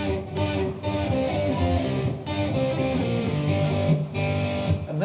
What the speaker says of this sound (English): If you use distortion, it's going to sound like this.